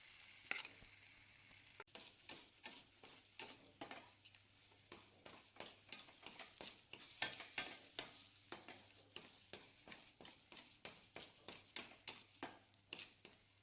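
Semolina sheera cooking in ghee, stirred with a steady run of scraping, clacking strokes against the pan over a low sizzle, close and fairly quiet with no talk.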